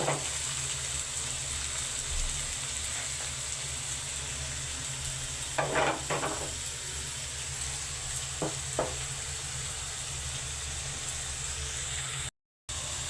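Ampalaya (bitter gourd) stir-fried in a pan for a dish with egg gives a steady close sizzle, broken by a few brief spatula scrapes and knocks.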